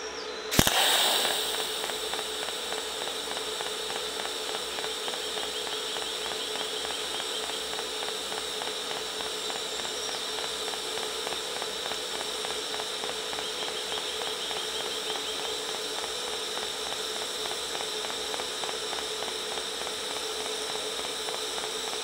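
Metal being pulse TIG welded gives a sharp arc strike, then a long, steady electric buzz with a fine rapid pulsing, close and fairly loud with no talking.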